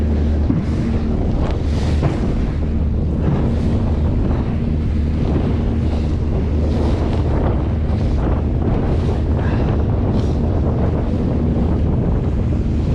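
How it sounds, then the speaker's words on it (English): A Quicksilver Ocean Runner 410 RIB with an Evinrude ETEC 25 outboard pounds through steep Solent waves in a November Force 5 wind, with loud continuous wind buffeting on the microphone, engine drone, and repeated slaps of hull against water. "Really steep waves."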